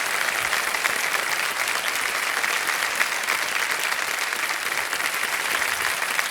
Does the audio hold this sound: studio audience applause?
yes